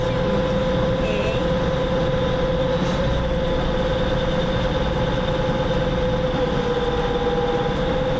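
A ferry engine drones steadily during a crossing into New York City, a constant low hum with a faint tonal whine that holds evenly throughout.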